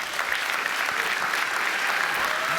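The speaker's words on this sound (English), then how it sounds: "I would like to hear a particularly warm and enthusiastic round of applause" Conference audience at an electric vehicle charging keynote gives a warm round of clapping, full and continuous from many hands, steady in loudness from start to finish.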